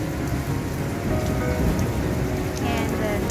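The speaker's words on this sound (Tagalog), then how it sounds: "The weather is it's windy and raining." Steady rain falling and pattering on surfaces, with gusty wind and a faint hint of thunder, a dense continuous wash of noise heard alone with no talking.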